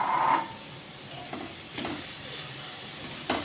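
Grated carrots sautéing in a hot pan for carrot halwa, a continuous close sizzle broken by a few scraping stirs of a spoon.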